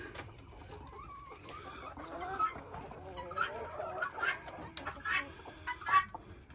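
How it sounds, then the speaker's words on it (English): Several chickens cluck and chatter close by on a farm, overlapping in irregular bursts against a low background hum. "So here's all the chickens."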